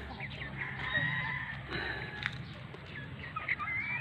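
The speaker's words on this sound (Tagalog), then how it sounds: "Pinatuka ko na ang mga manok namin." Domestic chickens cluck and call around their feed, a steady scatter of fowl sounds at close range over a low rumbling background, with faint voice-like murmurs mixed in.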